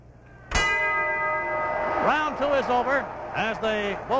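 A boxing ring bell clangs at a 1950s world middleweight championship bout, one loud ringing strike that sustains with a long tail while a ringside announcer talks over it.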